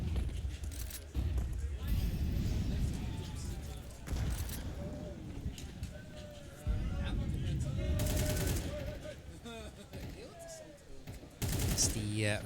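Rifle gunfire in a Counter-Strike 2 match: several bursts of sharp, loud shots spread across the clip, some in quick strings and some single, under steady talk.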